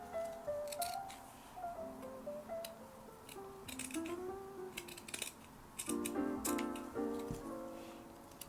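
Scissors cut through tea towel fabric in a series of close, soft snips and crunches, irregular in rhythm with short pauses between cuts, fairly quiet overall.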